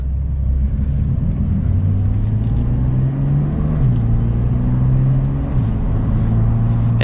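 A 2021 Porsche 911 Carrera engine hums steadily in normal mode while driving, a continuous low drone whose pitch climbs and steps as gears change, loud and close throughout with no talking.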